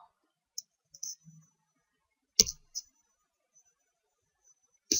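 Sparse, isolated clicks of computer keys and a mouse in a quiet room, a few light taps spread apart with one sharper knock midway and another near the end.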